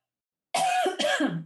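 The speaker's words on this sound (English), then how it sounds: "I apologize for coughing" Two sharp coughs in quick succession, close and loud, after a moment of silence.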